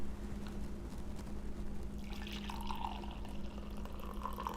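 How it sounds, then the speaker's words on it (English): Freshly brewed Geisha pour-over coffee is poured into a clear cup, making a low, steady liquid trickle that rises into a brighter filling tone partway through, close and continuous with no talking. "Let's pour it in here and you can kind of see the colors here."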